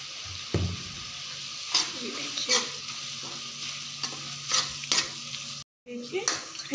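Tomatoes cooking with salt in a pan for tomato chaat, sizzling steadily while a spoon stirs and scrapes against the pan in repeated close strokes, with a brief cut to silence near the end.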